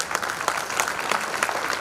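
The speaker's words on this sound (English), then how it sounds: "let's give them a clap first because they introduced us" Brief round of clapping from an audience at an inaugural cultural program, scattered and uneven with distinct individual claps standing out across under two seconds.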